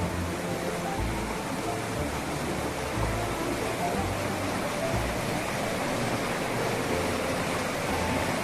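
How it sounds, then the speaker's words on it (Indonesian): Underground river water gushes forcefully from rock crevices at Baron Beach, a loud, continuous broadband roar of rushing water with no break, heard close up and alone. "Tampak air mengalir begitu derasnya dari celah-celah batu yang ada di depan kita ini."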